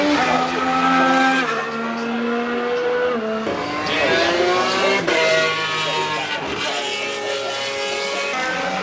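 Formula 1 cars run on the track at Silverstone during the British Grand Prix, with engines rising and falling through gear changes as cars pass, loud and near, alongside crowd and commentary noise.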